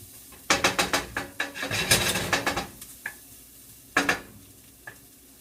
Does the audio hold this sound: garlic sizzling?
yes